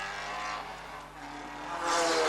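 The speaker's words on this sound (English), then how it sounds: "Sean Brown motoring slowly into the pits in the Castrol Sierra" A Castrol Ford Sierra race car engine idles and revs in the pit lane, a steady buzzing drone that swells louder toward the end, with no talk over it.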